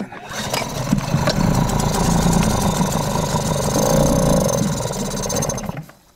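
A small Tohatsu 3.5 hp outboard motor on an inflatable boat starts with a rough roar, runs loudly and unevenly for about five seconds, then dies away.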